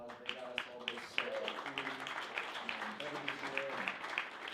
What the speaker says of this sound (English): please do give them a round of applause